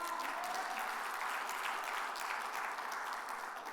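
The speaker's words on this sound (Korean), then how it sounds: "할렐루야! 박수 쳐야죠." Church congregation clapping together in a sanctuary, a steady dense patter of many hands that holds at an even moderate level throughout with no voices over it.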